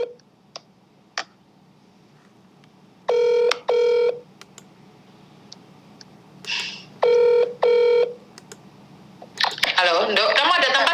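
Phone ringback tone in two pairs of rings, separated by silence, with clicks and soft taps between them. A voice answers at the end.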